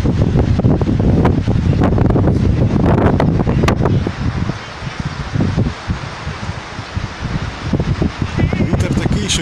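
Strong wind on the North Sea coast near Haarlem buffets the microphone in heavy, roaring gusts, loudest early on and easing slightly before picking up again; faint voices may sit beneath it.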